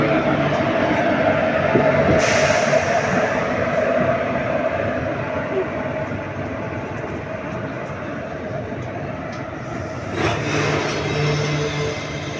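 The Semmozhi Express pulls into Erode station with a continuous low rumble of wheels and carriages, a steady rolling drone with a couple of brief hissing bursts, near and fairly loud over faint platform murmur.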